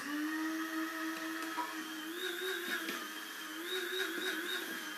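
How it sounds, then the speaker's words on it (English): A small electric coffee grinder grinds psyllium husk seeds for a raw vegan pudding, a steady close, loud whirring drone that holds continuously throughout with slight pitch wavering. "The little coffee grinder, I always use it for these kind of jobs."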